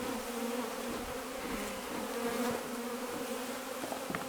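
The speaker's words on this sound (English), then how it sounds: "We got bees, folks. We got bees!" Honey bees swarming around a newly installed Bravo 1 hive at Summerhead Ranch, a dense continuous buzz close by, with light scraping and tapping knocks scattered through.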